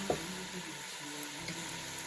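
Ground Nigerian pepper being stirred into a pot of chicken and vegetables, a soft steady sizzle with a couple of spoon knocks against the pot, quiet and close, no voices.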